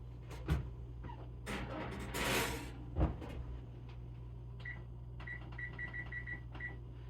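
A pie crust goes into a preheated 425-degree oven: a thump, a door swinging shut with a clunk, then a run of short electronic beeps from the control panel as the timer is set, with no talking.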